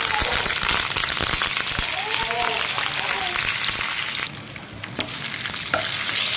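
Cumin, coriander and curry leaves sizzling loudly in hot oil for a tomato pickle, a dense crackling hiss that eases briefly near the end and then returns, with faint voice traces underneath.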